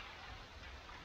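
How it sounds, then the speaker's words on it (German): Hail storm drumming on a lakeside shelter during an e-bike trip at Stienitzsee, a dense continuous hiss of impacts, steady and fairly loud, with no voices. "Und dieser Hagel, schrecklich, absolut schrecklich."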